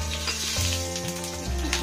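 Whole cumin, dried red chilli, cardamom, cloves and cinnamon sizzle in hot oil over a medium flame, a brief continuous hiss with a steady tonal hum beneath it.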